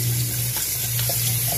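Tap water runs steadily from a faucet over cooked pasta in a home kitchen, a continuous close hiss with a low hum underneath and no talking.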